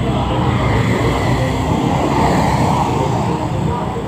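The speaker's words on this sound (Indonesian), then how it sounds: "Ini ada bus pariwisata juga." A tourist bus passes along a busy street in Sanur, Bali, its engine rumble blending into a steady, loud wash of traffic noise that holds for the whole stretch without a clear peak.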